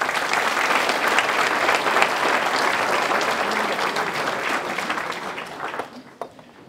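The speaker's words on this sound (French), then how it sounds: "Alors je vais vous demander de l'applaudir, s'il vous plaît." A room full of people at a French town mayor's New Year address clapping loudly and steadily for several seconds, then the applause fades out quickly at the end.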